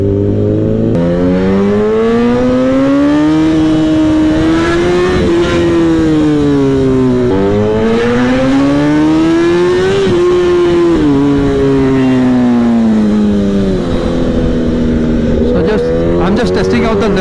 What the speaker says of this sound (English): Testing out the limits of this bike, the acceleration and the stopping power.